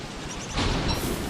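Steady hiss of a rain downpour in the video game Don't Starve, swelling louder partway through and holding as a continuous wash with no talk.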